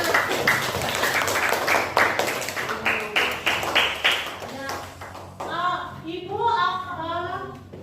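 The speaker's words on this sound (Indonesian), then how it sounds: "Tepuk tangan untuk semuanya" A classroom of students claps together in a quick rhythmic pattern of sharp, evenly spaced claps for about five seconds, after which children's voices take over.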